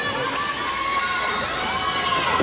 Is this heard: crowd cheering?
yes